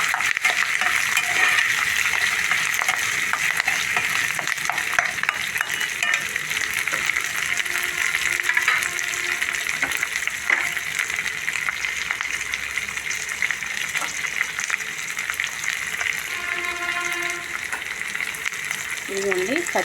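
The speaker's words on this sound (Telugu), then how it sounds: "సన్నగా కోసిన ఉల్లిపాయలు వేసుకోవాలి" Thinly sliced onions fry in a pan with a loud, continuous hiss and sizzle throughout, broken by occasional scraping stirs.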